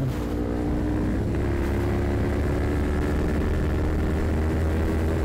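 A motorcycle in need of some maintenance is ridden with a loud, steady engine drone and heavy wind rush, holding a constant low hum without clear gear changes.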